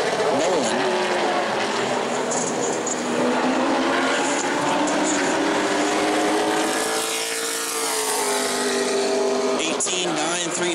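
A Pro Late Model race car laps New Smyrna Speedway in qualifying, its engine a loud continuous roar with rising and falling pitch as it passes, under a commentator's voice.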